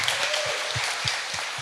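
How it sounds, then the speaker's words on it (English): A conference crowd at the BlockSplit 5 event gives warm applause for a speaker, a continuous patter of many hands held at an even level, with faint low thumps recurring underneath. "Please, warm applause for John."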